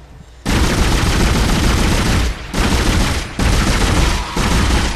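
In the Dead Space video game, heavy gunfire comes as long, loud, continuous bursts separated by short pauses, with no voices over it.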